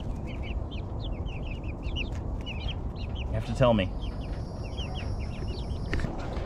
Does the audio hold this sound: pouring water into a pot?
no